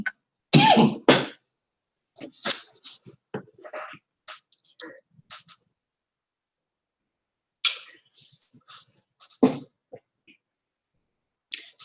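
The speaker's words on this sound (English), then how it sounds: "excuse me, I've got a cough now." A person with a scratchy throat coughs several times, sharp close bursts separated by pauses, with quiet breathy sounds and a few soft vocal noises in between.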